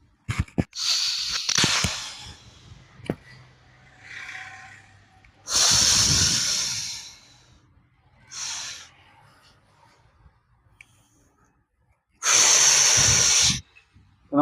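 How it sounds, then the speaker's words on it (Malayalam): A person doing a breathing exercise forcefully pushes out the breath in several loud, hissing exhales, each lasting a second or more and separated by quiet pauses. "ശ്വാസം മുഴുവനും പുറത്തേക്ക് വിടാന്ന്."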